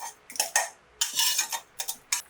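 A spoon clinks and scrapes against a bowl in irregular bursts while mixing salt and cooled tempering into curd, with short quiet pauses between strokes.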